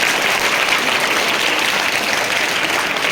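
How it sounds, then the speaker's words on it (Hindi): Schoolchildren at an Urdu primary school's 26 January speech event burst into loud, continuous clapping, a dense unbroken patter of many small hands with no talking. "और एक बार ताली बजाओ."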